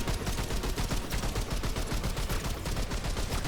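Rapid sustained gunfire from the shooter game Remnant 2, a dense unbroken stream of shots fired from behind cover, loud and close throughout with no pauses.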